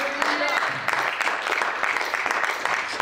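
A church congregation bursts into sustained applause and acclaim for God, a dense, steady wash of clapping and voices filling the room from start to finish.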